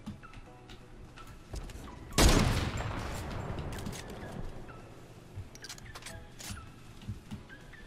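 A single loud gunshot in a video game with a sharp crack and a long echoing tail, surrounded by scattered faint clicks and game sounds.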